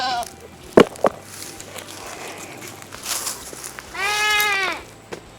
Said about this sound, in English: I was going to say my Kikos, but actually it's a good mix of goats now.